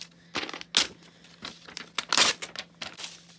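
Journal pages torn up by hand: a run of quick, close paper rips and crinkles in irregular bursts, some sharp and loud, with short pauses between tears and no talking.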